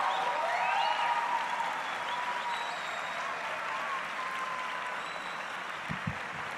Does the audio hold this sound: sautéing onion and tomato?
no